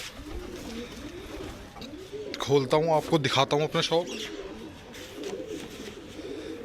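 Pigeons cooing on a hot, still rooftop, their soft throaty calls rising through the middle of the clip while someone talks nearby throughout.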